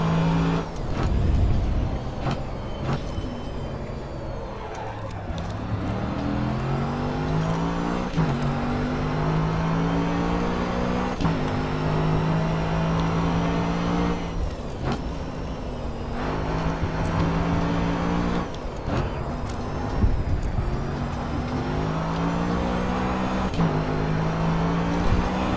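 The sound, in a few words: Mercedes AMG GT3 race car engine in GRID Autosport video game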